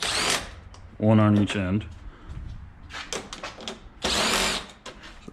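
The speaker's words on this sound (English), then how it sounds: "I like to use a little driver" A small power driver with a 5.5 mm socket buzzes in two short, close bursts, taking bolts off the front bumper of a 2019 Ford Mustang, with someone talking before and between the runs.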